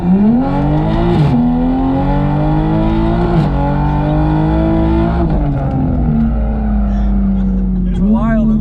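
Toyota A90 Supra pulls hard under full throttle, its engine note rising steadily with brief dips at gear changes, loud and close from inside the cabin, with voices talking over it.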